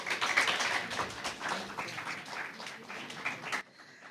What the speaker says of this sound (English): Come on, a greater round of applause